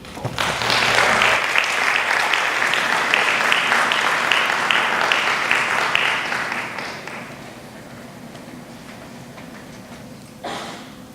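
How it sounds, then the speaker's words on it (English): An audience at an international festival claps steadily for several seconds to welcome performers to the stage, then the applause fades and thins out, leaving a quieter room with a brief bump near the end. "Now, let's give Yashi and Su Shang a round of applause to welcome them to the stage."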